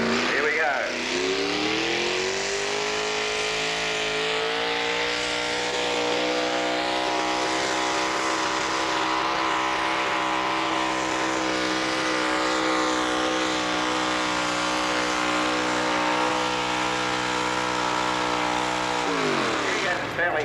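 A pulling tractor at the 1986 Colbinabbin tractor pull roars while dragging a heavy sled, its loud engine note held steady and sustained for the whole run before easing off at the end, with an announcer talking over it.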